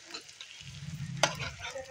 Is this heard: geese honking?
no